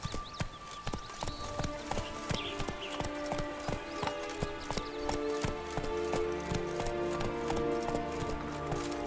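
A horse gallops in the Witcher 3 video game on PS4, its steady, rapid hoofbeats clopping close and clear over continuous game music throughout.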